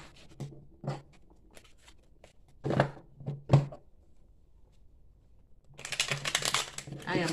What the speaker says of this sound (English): I am not the best card mixer, okay?